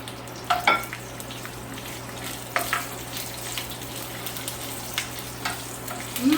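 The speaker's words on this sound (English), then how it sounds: "Once the curry leaves are in there, I'm going to add onion to it." Curry leaves and onions fry in a pan with a steady low sizzle, broken by a few sharper crackles and stirring scrapes near the start and middle, with no talking.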